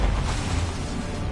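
A Confringo fire spell exploding in Hogwarts Legacy, a short loud blast with a rushing, roaring tail that fills the whole moment, close and without any talk over it.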